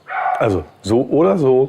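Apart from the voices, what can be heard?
dog barking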